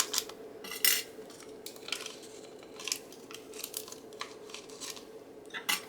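Small metal paper clips clink and rustle against paper as they are handled for a napkin craft project, a series of light, close taps and scrapes with no speech.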